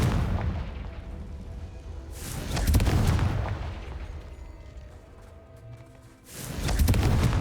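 A Confringo explosive spell cast in the video game Hogwarts Legacy gives two deep, rumbling booms a few seconds apart, loud and full, with a low wash of game ambience between them.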